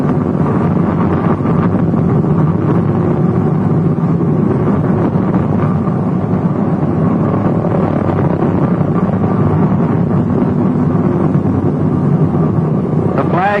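A WWII B-24 bomber taxiing at Willow Run, its engines a continuous heavy low drone with roaring wind buffeting throughout, loud and unbroken from start to finish.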